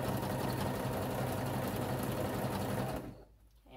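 A sewing machine stitching flannel-style pajama bottoms, whirring rapidly and steadily up close for about three seconds before stopping, with no voice over it.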